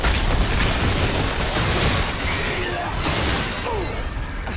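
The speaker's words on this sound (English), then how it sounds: "that's a big explosion" A big explosion in the video game Remnant 2 erupts loud and dense at once, then rumbles and crackles on with bursts of debris before gradually easing.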